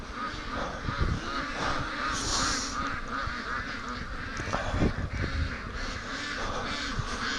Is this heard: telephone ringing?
no